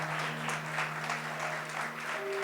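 Church congregation clapping loudly at a Hindi worship service, a dense, sustained wash of applause with a faint steady tone running beneath it.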